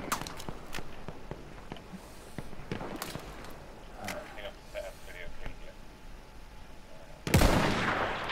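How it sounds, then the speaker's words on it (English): Gunfire in the Battlefield 1 video game: scattered sharp shots crack over a busy battlefield din, with a heavier, louder burst of fire near the end. "I'm getting so many shots at me"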